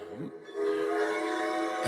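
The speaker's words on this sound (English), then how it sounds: "You hear that train?" A train horn sounds steadily for over a second, moderately loud and somewhat distant, with rumbling rail noise beneath.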